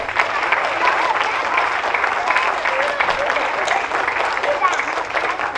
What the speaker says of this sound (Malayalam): എല്ലാവരും ഒന്ന് കൈയടിക്കുക.